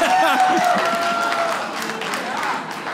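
An audience claps at a comedy show in a short burst of scattered applause, with a voice talking over it.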